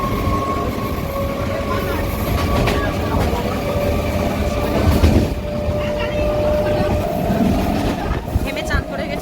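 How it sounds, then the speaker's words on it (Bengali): Rumbling interior of a moving passenger train, a steady low drone with rattles and faint rhythmic clatter, while people talk over it. "এই যে ট্রেনে উঠে গেছি, বাড়ি যাবো।"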